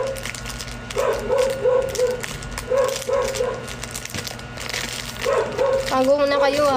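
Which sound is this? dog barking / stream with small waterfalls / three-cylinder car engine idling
dog barking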